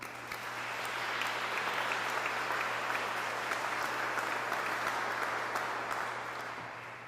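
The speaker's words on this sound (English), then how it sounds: "let's give them a round of applause" Applause from a crowd at a ceremony marking completion of the Lake Michigan water project to Waukesha, a dense, even wash of clapping that swells in and holds steady for about seven seconds over a low hum.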